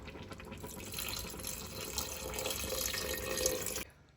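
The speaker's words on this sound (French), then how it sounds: "Alors après 10 minutes de cuisson, on va rajouter un demi-litre d'eau." Half a litre of water poured into a pot of slimming soup after ten minutes of cooking, a steady close splashing rush that builds slightly and stops abruptly near the end, with no talking.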